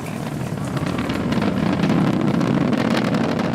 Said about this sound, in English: Throttling down in preparation for the period of maximum dynamic pressure.